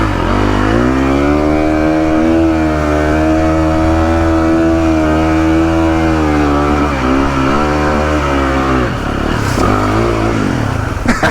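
Motorcycle engine revving hard and steadily while bogging through deep flash-flood water, a loud, close, sustained drone with slight pitch dips near the end.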